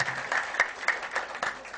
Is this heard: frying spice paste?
no